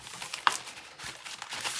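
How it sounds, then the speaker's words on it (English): A paper pack's plastic neck is opened and papers slid out, giving soft crinkling and rustling with a sharp crackle near the start, close and quiet, with no talk. "I'm just going to open out the neck of that paper pack so I can slide these papers out"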